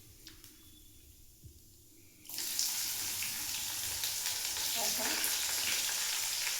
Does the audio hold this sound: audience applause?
no